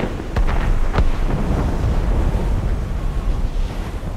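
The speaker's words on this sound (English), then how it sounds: "Cannon fire, deep within the fog." Distant cannon fire booms muffled through fog in Assassin's Creed Rogue, a few low thuds early on rolling into a constant wind-and-surf roar over open sea.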